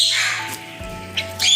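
Free-range myna birds call close by, giving short squawking and chirping notes over a continuous background hiss.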